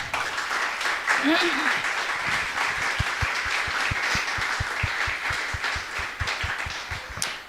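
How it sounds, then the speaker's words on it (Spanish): A church congregation at a Sunday service claps loudly, a broad wash of applause that turns into rhythmic, evenly spaced claps, with voices heard faintly among it. "¿Qué tal si usted le da un fuerte aplauso al Señor?"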